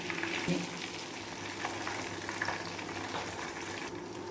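Taro root (arbi) fries in ghee with whole spices, a steady dense sizzle running close and even throughout with faint scraping, no talk.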